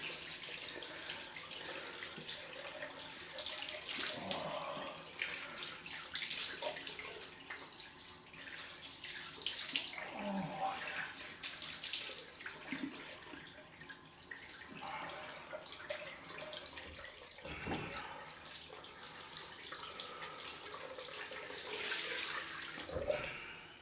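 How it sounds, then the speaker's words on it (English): Cold tap water runs steadily into a bathroom sink during a rinse after a head shave, a continuous close splashing flow with small shifts in intensity and no talk. "Time for the cold rinse."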